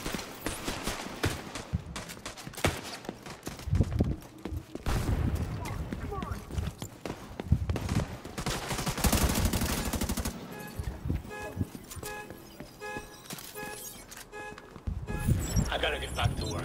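Video game gunfire from Tom Clancy's The Division 2 crackles in dense bursts and rapid automatic volleys, mixed with game effects and voices talking.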